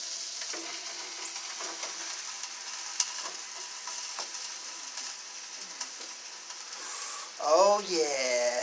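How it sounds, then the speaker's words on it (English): Food sizzling on a George Foreman grill out on a patio, a steady soft crackle with faint scraping and a swell of noise near the end. "I am cooking on the grill. George Foreman grill."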